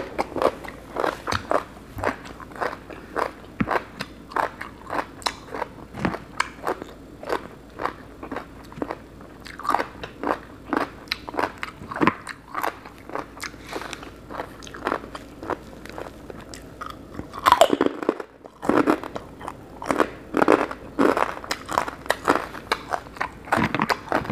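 Crunchy Thai papaya salad with fermented fish sauce is eaten up close, with steady rapid bites and loud crisp crunching chewing repeated throughout, a brief pause near the end, then more crunching.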